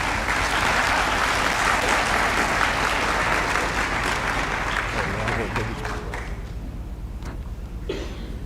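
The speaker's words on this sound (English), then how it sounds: "Let's give these guys a round of applause" An audience applauds state tournament athletes at a school system recognition event, a broad sustained wash of clapping that gradually thins and tapers into scattered claps toward the end.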